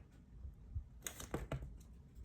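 Tarot cards being shuffled by hand, soft papery riffling and tapping in a few quick bursts, faint and close in a quiet room.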